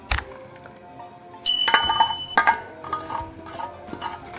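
A homemade liquid soap blended with aloe vera, neem and tulsi pulp being stirred in a container, giving scattered utensil clinks and scraping knocks in irregular bursts, close by, with no talk.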